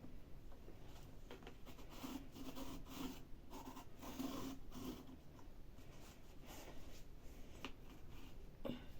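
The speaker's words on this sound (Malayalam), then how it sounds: "ഈ റിങ് എടുത്തതിന് ശേഷം ഈ ഒരു കാർഡ്ബോർഡിൽ ഒന്ന് സർക്കിൾ വരച്ചു കൊടുക്കാം" Pen or marker scratching steadily across cardboard while a circle is traced around a ring, a close, continuous rasping rub with small pauses throughout.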